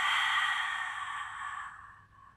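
A single long, soft breath out during a Pilates mat exercise, a breathy airy exhale that slowly fades over about two seconds, close and quiet.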